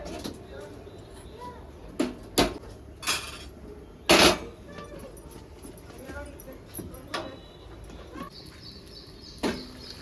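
A lid goes onto a pot of fish curry on the stove, giving a few sharp metallic clanks and clatters scattered over the stretch, close, with kitchen handling sounds and speech between them.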